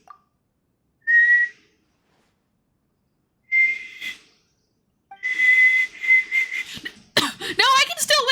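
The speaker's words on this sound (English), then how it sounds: "No, I can still whistle fine!" A person whistles in several short bursts separated by silence, ending in a longer run of tones, with a little breathy noise and some talk near the end.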